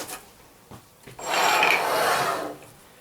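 A HAISSER Industry 1200 mm manual tile cutter scoring ceramic tile, heard as a couple of brief scrapes followed by a sustained rasping scratch of the cutting wheel across the glaze, close by, fading out at the end, no speech.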